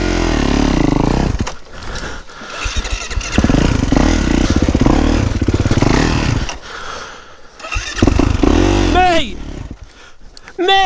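A 2-stroke motocross bike's engine revs hard and loud up close, roaring through repeated throttle blips while people talk over it.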